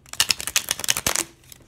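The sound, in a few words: shuffling a deck of tarot cards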